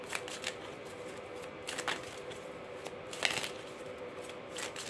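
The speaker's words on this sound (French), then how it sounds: "Et on va prendre 5 cartes de l'oracle des murmures." Oracle cards are shuffled by hand in a quiet room: a steady, close, papery riffling with a few sharper flicks and slaps, continuing alone for about five seconds.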